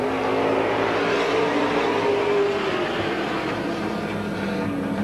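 Race cars at a speedway oval accelerate together on the green flag. The roar of the engines is loud and sustained, with a pitch that slowly rises as the pack gathers speed.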